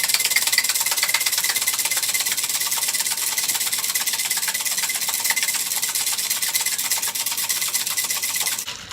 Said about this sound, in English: fill the shaker with ice cubes and shake vigorously until it is ice cold.